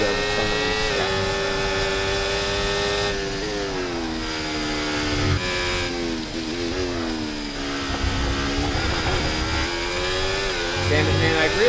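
Loud, continuous F1 24 racing car engine screaming through rising and falling revs as gears change, with a steady mechanical whine, while someone talks over it throughout.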